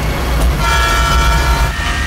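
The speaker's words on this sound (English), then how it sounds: "Bond must catch a train in his Porsche Cayenne Turbo." Train horn tooting over a steady low rumble of rail traffic in a James Bond driving game, from a chase where a Porsche Cayenne Turbo pursues a train; sustained, loud and continuous with no talk.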